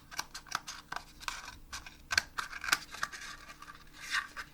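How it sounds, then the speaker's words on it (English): Scissors poke into and snip around the bottom of a paper Dixie cup, giving close, irregular crisp cutting and scraping sounds with small clicks and no talk. "kind of poke the scissor into it, and then cut off the bottom"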